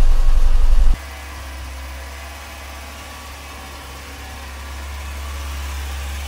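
A Ford Fiesta MK3 engine ticks over at a steady idle, a low, even hum close by, after a louder rev-like burst in the first second settles down; no one speaks.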